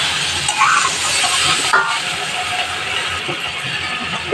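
A pan of curry being stirred after fried bora (lentil fritters) are added, giving a steady broadband sizzle with scraping, clattering stirs across the clip; no one speaks.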